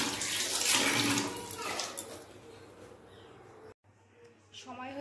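Water splashing and running while clothes are soaked and washed with soap, loud close sloshing that fades to quieter trickling, with someone speaking over it.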